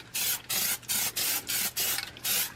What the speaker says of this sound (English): we're going to spray paint the front of our cover